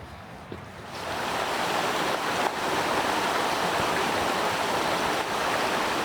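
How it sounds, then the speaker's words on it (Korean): A stream rushing down a forested valley beside a hiking trail through cypress woods, a steady, full broadband roar that swells after the first second and holds close and constant. "숲속에서 흐르는 물소리가 더욱 청아하게 들리는 듯 했습니다"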